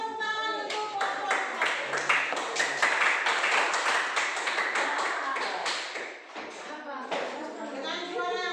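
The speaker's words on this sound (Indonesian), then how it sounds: "Ayo, mari kita tepuk tangan untuk kelompok" A classroom group of students claps together in a lively, steady rhythm of sharp hand claps, while a teacher's voice and some children's voices carry over the applause.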